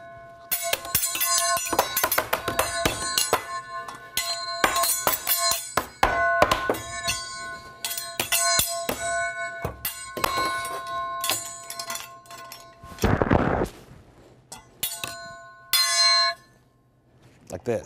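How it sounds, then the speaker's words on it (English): A handheld bell is rung loudly and repeatedly in irregular bursts of bright metallic clangs, with a brief voice partway through. "We start ringing the dinner bell."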